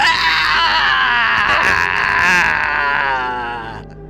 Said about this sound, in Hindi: आत्माएं चीखने लगी।